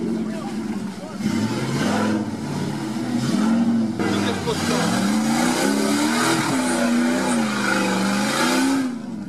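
A car engine drones and revs up and down, wavering in pitch as the vehicle works over rough ground, with voices talking over it.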